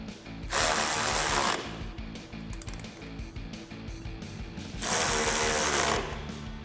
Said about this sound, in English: we're gonna use a 19 millimeter socket and a 19 millimeter wrench and get those tightened up